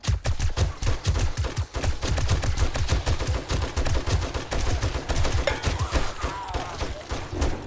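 An enemy warden boss in the Asylum video game fires a long, relentless barrage of rapid, loud gunshots, the bursts running almost continuously with only brief gaps.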